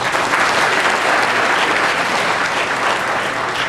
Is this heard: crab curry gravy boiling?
no